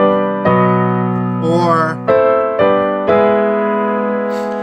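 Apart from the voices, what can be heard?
piano chord progressions using the circle of fifths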